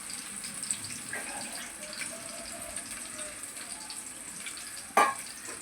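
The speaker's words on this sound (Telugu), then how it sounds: "బాగా ఏగాలి, దోరగా ఏగాలి ఎండు రొయ్యలు." Dried shrimp fry in a pan with a soft, steady sizzle, faint and close, with a brief clatter near the end and no speech.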